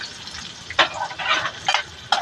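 Isaw (chicken intestines) being sautéed in a pan, a soft sizzle with a few scraping stirs and bursts of crackle over about two seconds.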